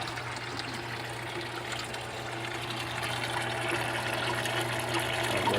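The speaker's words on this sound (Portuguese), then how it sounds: "A água desce aqui." Water trickles steadily down through a water-hyacinth filter on a fish tank built from an old refrigerator, a continuous close splashing flow with no talk.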